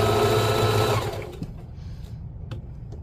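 A sewing machine stitching a pillow, run by foot pedal, hums loudly and steadily for about a second, then stops, leaving quiet room noise with a few small clicks.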